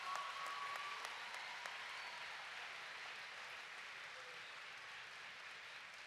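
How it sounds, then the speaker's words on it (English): A large audience at a fall commencement ceremony applauds, with dense clapping that is steady and slowly fading, heard from a distance. "give them another round of applause"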